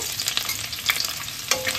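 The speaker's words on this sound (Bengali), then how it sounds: "চিকেন ভাজা তেলের মধ্যেই কিছু রসুন কুচি দিয়ে দেবো।" Chopped garlic dropped into hot oil left from frying chicken, a steady close crackling sizzle with sharper spits and stirring scrapes, no talking.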